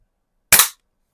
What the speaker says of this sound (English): Let's shoot the can again